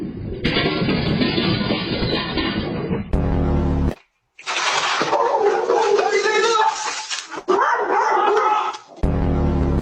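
A dog barks loudly in repeated bursts amid a dense, noisy mix of other sounds, with a short pause partway through.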